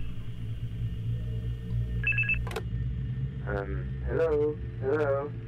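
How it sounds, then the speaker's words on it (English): Phone ringing in a Five Nights at Freddy's fan game, a short electronic ring followed by several warbling trill bursts over a steady low hum, loud and close. "Pick up the phone!"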